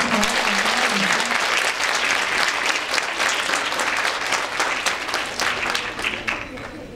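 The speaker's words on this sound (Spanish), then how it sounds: "Denle un aplauso." An audience at a science event for women and girls applauds a veterinary researcher's introduction, steady clapping from many hands sustained throughout, with a voice speaking briefly at the start.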